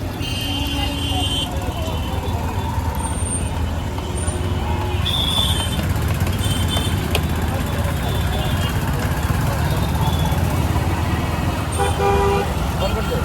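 Busy everyday road traffic with auto-rickshaws, cars and motorbikes rumbles steadily and loudly, with short horn toots popping up now and then over the constant engine drone.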